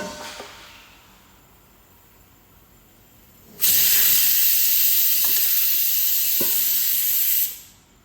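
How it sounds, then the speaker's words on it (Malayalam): Vellappam batter is poured into a hot pan over a low gas flame, setting off a loud, steady hiss of sizzling that lasts several seconds and then cuts off abruptly. "ഗ്യാസൊക്കെ സിമ്മിലാക്കിയിട്ടാട്ടോ ഞാൻ ഒഴിച്ചു കൊടുത്തത്"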